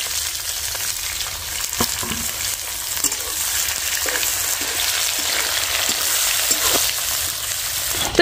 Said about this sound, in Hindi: देखिए कैसे फ्राई हो रहा है रसोई, अब डाल देते हैं प्याज